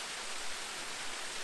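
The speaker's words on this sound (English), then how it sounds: "visiting my local waterfall. I think this is called Wyman Falls." Wyman Falls pours in a steady, dense broadband rush, close and continuous with no voices over it.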